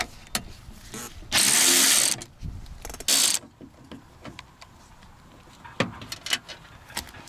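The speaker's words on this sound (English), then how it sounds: "now we need to remove these 2 10mm bolts from the base of the rear window regulator assembly" A ratchet works on 10mm bolts at the base of a Toyota Century rear window regulator. Short clicking bursts and scraping mechanical handling sound close by, with two loud bursts standing out and no talk.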